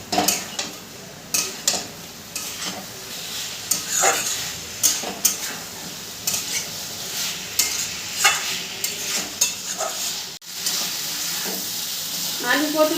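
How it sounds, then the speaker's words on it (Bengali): Rice sautéed with spices in a pan for a potato and pointed gourd curry, a steady sizzle with repeated scraping and stirring strokes of a spatula against the metal, close and continuous. "এরপরে চালের সাথেও মশলাটা খুব ভালো করে কষিয়ে নেব।"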